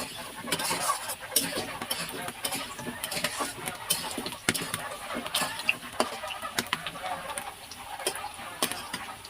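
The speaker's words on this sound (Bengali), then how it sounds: "এবার এটাকে এই যে নেড়ে চেড়ে নিচ্ছি" Duck curry pieces with potato being stirred and fried in a pan, giving steady sizzling with repeated scraping clicks of the spoon, close and moderately loud throughout.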